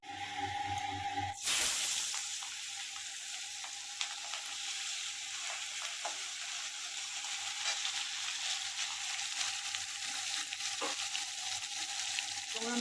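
Fish cooking in oil for a fish curry makes a continuous soft sizzle and bubble at close range after a short clattering bump near the start, with occasional faint ticks over the hiss.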